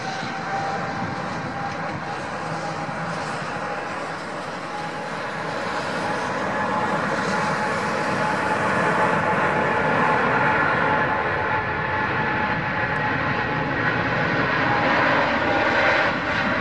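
Boeing 777 airliner jet engines in Flight Simulator X power up to about 60% thrust, a steady loud whining roar with a high tonal hum that swells slightly and holds.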